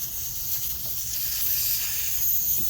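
Air hisses steadily out of a tire valve stem as its core is unscrewed, a faint, continuous high-pitched rush that holds even from start to finish.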